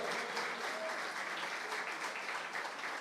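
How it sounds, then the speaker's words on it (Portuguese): A church congregation at a worship service applauds together, a continuous, even patter of many hands clapping that holds at a moderate, somewhat distant level with no talk over it. "Pode aplaudir o avivamento bíblico"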